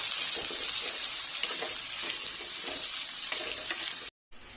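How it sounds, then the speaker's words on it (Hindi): Onions browning in oil with cumin, giving a steady, close hiss of frying that runs continuously before a sudden brief break near the end. "प्याज हमें ब्राउन फ्राई करना है"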